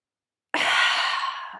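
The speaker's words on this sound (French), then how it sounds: "Prendre une grande inspiration" A single deep inhale starts abruptly after a moment of silence and carries on as a steady, close, breathy rush for about a second during a relaxation exercise.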